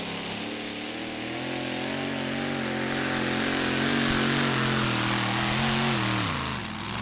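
A two-wheel-drive class pulling tractor fitted with a new Bratt engine roars through a run at a Eurocup tractor pulling event in Bernay, its loud droning tone rising and shifting in pitch as it pulls.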